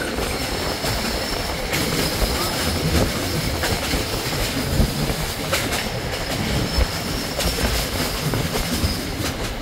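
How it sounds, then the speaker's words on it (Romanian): A passenger train on a rural line in the Maramureș region rolls along the rails, a loud, close, continuous rumble of wheels with rhythmic clacks and occasional faint squeals, no voices. "Sunetul roților de tren."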